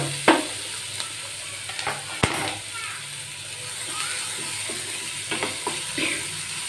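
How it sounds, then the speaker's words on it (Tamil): Chopped onions sauté in hot oil, a continuous sizzle broken by rattling, scraping stirs and a few sharp knocks of the utensil against the pan, heard up close. "இப்போ எண்ணெய் காஞ்சதும் வெங்காயத்தை போட்டு வதக்கலாம்."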